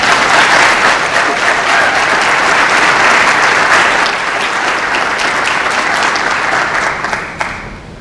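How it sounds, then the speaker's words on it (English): A school athletics signing-day audience breaks into sustained applause, a steady wash of many hands clapping that holds loud for several seconds before tapering off near the end, with no talk over it. "we can give them a round of applause"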